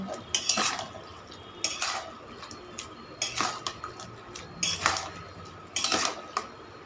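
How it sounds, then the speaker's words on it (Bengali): A spoon stirs a fish head through bottle gourd ghonto in a pan, with bursts of metallic scraping and clinking that come in regular rounds about every one and a half seconds, close and clear, with a low sizzle between and no voices. "মাছের মাথাটা দিয়ে এবার আমি ভালো মতো নেড়ে নিচ্ছি"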